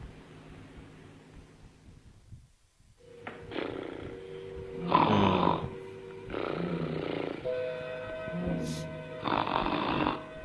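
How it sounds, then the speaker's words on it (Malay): A sleeper in a 1963 Malay film snores loudly and repeatedly, each snore a raspy swell lasting about a second, with a steady hum running underneath. "Tidur tak boleh diam-diam. Berdengkur macam guru."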